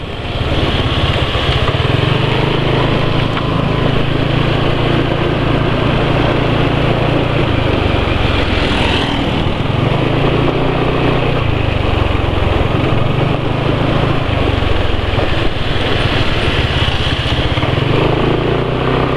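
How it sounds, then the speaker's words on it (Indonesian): A motorcycle engine treated with WEPP 2111 additive runs roughly at a steady idle, loud and close throughout with a constant uneven mechanical drone and no voices. "Ini cek lagi suara mesin ini"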